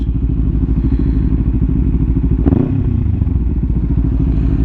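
A 2020 KTM Duke 390 motorcycle engine idles loudly up close, a steady throbbing rumble with a brief clatter partway through.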